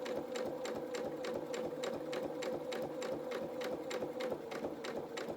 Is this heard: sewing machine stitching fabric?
yes